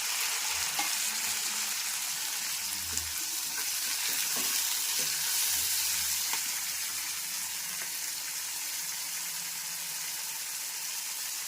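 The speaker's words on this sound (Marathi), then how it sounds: "कांदा छान ब्राऊन होऊ देऊ" Onions browning in a pan for a dried fish curry, a continuous dense sizzle with occasional spatula knocks and stirring scrapes, steady and close throughout.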